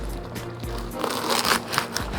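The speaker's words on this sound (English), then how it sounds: "That's the sound of crusty bread." Crusty bread crackling and crunching up close, a steady run of small dry crackles and crunches with no voices.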